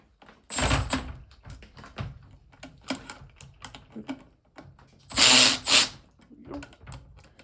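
Loosening bolts on a KX100 engine case during a rebuild, with repeated short ratcheting and metallic clicks, two louder bursts of tool work, and quiet talk in between.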